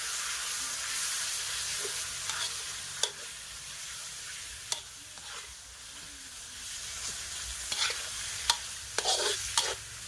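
Pork belly with long beans and curry paste stir-fried in a pan, a steady broad sizzle broken by sharp scraping and clacking strokes of the spatula, busier near the end, close and without talk.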